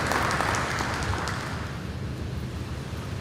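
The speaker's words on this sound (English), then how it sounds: "let's give her a round of applause" A town hall meeting audience gives a round of applause for the teacher of the year, a steady dense wash of clapping that gradually fades slightly.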